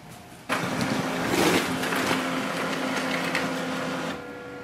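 A Brother DCP-L2550dw laser printer runs a two-sided print job, a steady mechanical whirring and feeding hum that starts abruptly, holds for a few seconds with faint clicks, then drops off, heard close with no talking.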